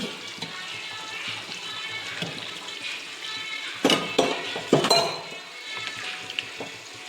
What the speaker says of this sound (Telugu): కొద్దిగా వాటర్ వేస్తున్నా.